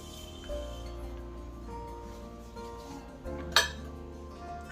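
Vegetables are stirred into handvo batter in a bowl with soft wet mixing and faint clinks of a utensil against the bowl, plus one sharper knock near the end; no voices.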